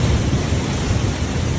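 Deep, continuous rumble of thunder from a severe storm near Aurora, steady and loud with heavy low-end roll and a rain-like hiss over it, no voices.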